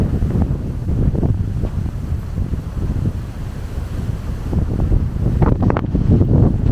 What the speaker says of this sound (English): It is kind of windy up here.